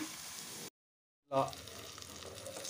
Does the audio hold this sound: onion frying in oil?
yes